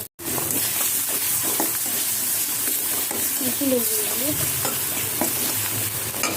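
Chopped onion, chili and garlic sizzle loudly in butter alongside boiled pasta, a dense continuous hiss with stirring scrapes close by and brief faint talk.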